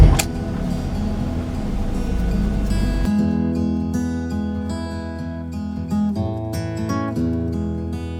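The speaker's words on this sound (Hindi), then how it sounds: "सो नाउ एक स्टार्टअप मारते हैं गाड़ी को, गाड़ी थोड़ी गर्म करते" A car idling after being started and left to warm up, a steady low engine rumble throughout that turns smoother partway through, with tonal music over it.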